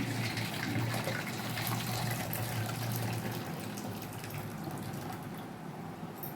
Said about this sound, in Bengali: এবার একটি পাত্রে আমি গরম জল নেব।